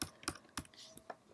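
Computer keyboard arrow keys tapped in quick succession, about five or six light, crisp clicks in an uneven rhythm, close and quiet with no talking.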